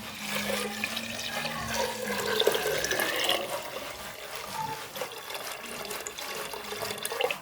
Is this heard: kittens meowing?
no